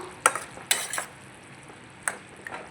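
A spoon stirs a cashew mushroom masala curry in a pan after curry leaves go in: a few sharp metal scrapes and clinks against the pan, spaced apart over a quiet background sizzle, with no talking.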